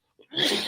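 A single sneeze, close and fairly loud: a brief inhaled catch followed by a sharp, breathy burst that trails off.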